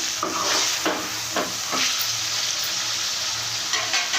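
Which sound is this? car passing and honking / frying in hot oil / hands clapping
frying in hot oil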